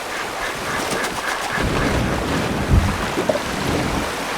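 A canoe glides down a river in Red Dead Redemption 2, with a steady wash of water and wind noise throughout and a few soft splashes or paddle knocks near the middle.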